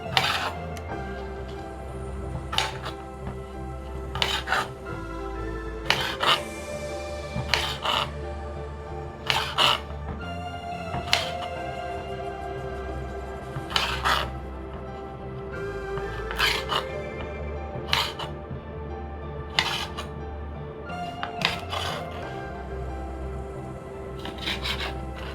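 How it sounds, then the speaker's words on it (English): Knife slicing garlic stems on a cutting board for a Korean side dish, a string of crisp separate chops in an uneven rhythm, each a short close crunch over quiet background music. "Slice the stem of garlic about 4 centimeters wide."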